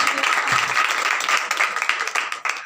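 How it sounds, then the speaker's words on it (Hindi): A crowd at a church women's seminar applauds steadily and loudly, a dense wash of clapping that holds for a few seconds before tapering slightly at the end. "तो फिर जोरदार तालियां बजाएं खुदा के रूह के लिए"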